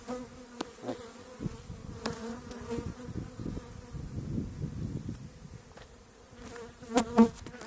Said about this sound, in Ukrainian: Пчоли злі, за руки кусають.